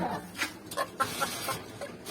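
Chickens cluck in short, scattered bursts nearby, with soft background rustling and no one speaking.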